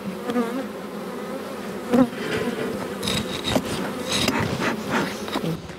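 A small honeybee colony, grown from a tiny swarm, buzzes steadily around its opened hive. The dense droning hum lasts throughout at close range, with a few brief clicks and bumps of handling, and no one speaks.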